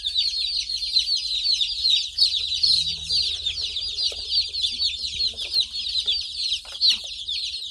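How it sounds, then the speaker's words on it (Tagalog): A brood of chicks on a rural farm peeps continuously in dense, high-pitched chirping, close and fairly loud, with faint low background noise beneath. "Ang cute. Ating mga sisiw."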